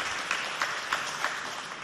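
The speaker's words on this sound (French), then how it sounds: "Applaudissez très fort pour elle" Audience applause at a school contest between Lycée de Habena and Complexe Oumar Khayar Defallah, honouring a student representative; a steady dense wash of clapping with a few louder accents, no voices over it.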